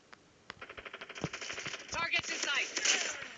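Gunfire from the XPR-50 sniper rifle in Call of Duty: Black Ops 2, heard as a sequence of sharp shots and rapid clattering bursts that build into denser game action, fairly quiet and close.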